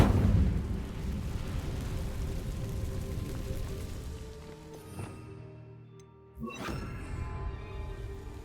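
Casting the Incendio fire spell on dry vines in Hogwarts Legacy gives a sudden whooshing burst, then a sustained crackling burn that slowly fades, with a brief thud near the end.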